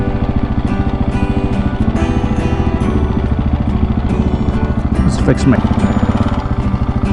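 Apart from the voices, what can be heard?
701 motorcycle engine during wheelie attempt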